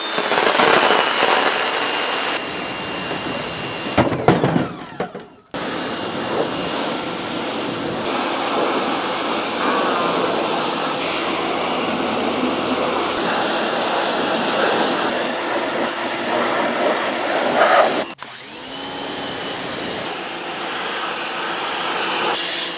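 An AR Blue Clean 2300 PSI electric pressure washer sprays loudly and up close, a steady roaring hiss that cuts off briefly twice as the trigger is released, then resumes.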